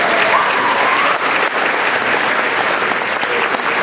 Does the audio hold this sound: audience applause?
yes